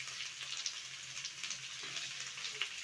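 Chopped vegetables such as carrot, cauliflower and capsicum sizzle steadily in a hot pan for poha pulao, a continuous crackling hiss with small pops, close by and with no talk.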